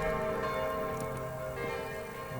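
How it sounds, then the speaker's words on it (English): Bell ringing in the video game Kingdom, a steady resonant chime sustained over a constant low background hum, fairly quiet and even throughout. "now that the bell has rung"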